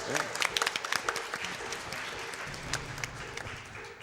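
Audience at a charity speedrun marathon claps for a large donation, a burst of scattered claps early that fades under ongoing talk and crowd murmur.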